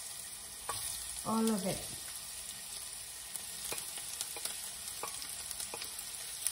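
Onion fries in a pan with a soft, steady sizzle and occasional stirring clatter, and a brief spoken voice is heard near the start.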